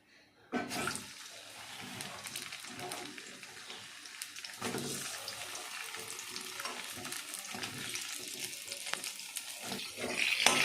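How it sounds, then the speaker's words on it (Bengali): Pointed gourd (potol) frying in about three spoonfuls of mustard oil in a pan, a steady close sizzle with occasional stirring scrapes, loud and continuous after a sudden start. "আমি 3 চামচের মতো তেল দিলাম, সর্ষের তেল দিয়েছি, দিয়ে এর মধ্যে পটলটা তুলে দেবো।"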